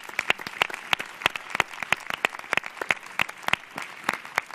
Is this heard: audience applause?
yes